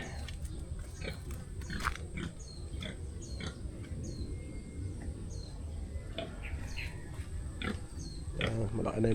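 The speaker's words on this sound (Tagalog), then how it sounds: "Malaki na yung baboy nila." A large pig grunts and oinks intermittently amid rustling and chewing-like noises outdoors, with scattered birdsong chirping overhead and a person talking nearby.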